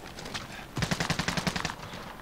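Rapid burst of automatic gunfire in Call of Duty Warzone on Rebirth Island, roughly a dozen sharp evenly spaced shots in quick rhythm, loud and close, after a short quieter lead-in.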